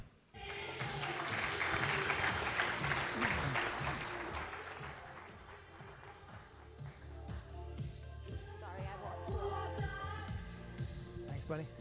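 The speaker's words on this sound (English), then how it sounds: "So if we can get a round of applause for Mike Vizard and Nishi Davidson." An audience at a tech conference fireside chat claps for the speakers, a thick burst of applause that swells, fades slightly and lingers with scattered individual claps near the end.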